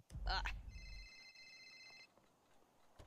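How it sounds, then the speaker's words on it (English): Phone ringing in the GTA video game, an electronic trilling ring tone that sounds once for over a second after a short burst of louder noise, then fades into near silence. "I don't even see the phone call, but I hear it."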